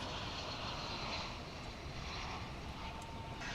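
A Spirit Airlines airliner passes at DFW International Airport, a broad, steady engine roar that stays loud throughout.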